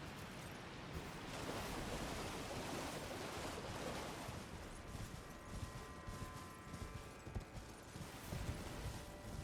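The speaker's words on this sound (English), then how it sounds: "I really dig the waterfall kind of thing." Steady rushing water from a waterfall in the video game Elden Ring, a broad continuous wash of noise that holds constant, with faint tonal music threads entering partway through.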